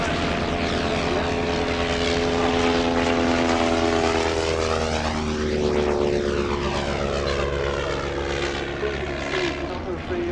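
Shuttleworth triplane, a propeller aircraft, flying at an evening air show, its loud steady engine drone and whirring propeller filling the air and sweeping in pitch as it passes close by.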